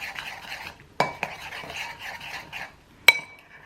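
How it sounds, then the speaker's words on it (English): A utensil stirs a fajita mixture in a pan, giving soft scraping and shuffling sounds. Two sharper clinks of metal against the pan ring out over the quiet stirring, and nobody speaks. "I'm just going to give it a little mix"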